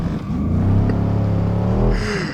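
Mercedes S63 AMG accelerating hard from inside the cabin, a loud deep engine roar rising steadily in pitch over about two seconds before easing off, close and dominant.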